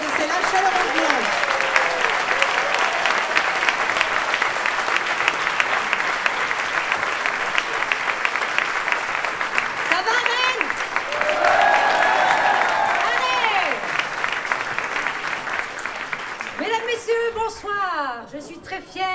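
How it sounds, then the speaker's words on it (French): Warm audience applause fills a political rally hall in Rennes, a sustained dense clapping that runs steadily throughout and tapers near the end, with scattered voices and cheers mixed in. "applaudissez-la chaleureusement"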